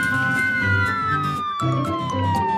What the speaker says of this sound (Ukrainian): Це поліцейська машина.